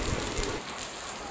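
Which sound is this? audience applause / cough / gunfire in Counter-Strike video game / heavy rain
heavy rain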